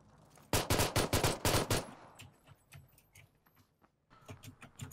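A close burst of rapid automatic gunfire rings out in the video game PUBG. About eight sharp, loud shots come in quick succession, followed by softer scattered shots and rattles further off.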